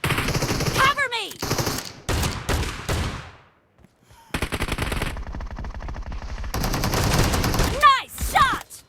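Gunfire in the mobile shooter BGMI during a team deathmatch shotgun challenge, with loud bursts of rapid shots and single blasts broken by short pauses, and game voice callouts mixed in.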